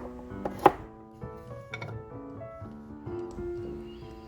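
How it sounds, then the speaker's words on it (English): Unpeeled carrots chopped with a kitchen knife on a board: one sharp, prominent knock early, then a few softer, irregular cuts, close and quiet. "Now, I'm gonna chop the carrots"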